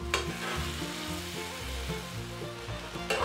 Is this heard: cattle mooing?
no